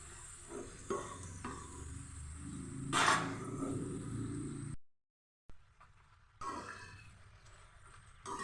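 Slices of arum (taro) fry in oil over a low-to-medium gas flame, a faint sizzle with occasional stirring scrapes and clatter, broken by a brief silent gap.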